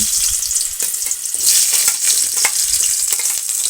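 Diced potatoes frying in hot oil with five-spice seeds in a wok on a gas stove, a loud steady sizzle with crackling pops and occasional stirring scrapes, no voices.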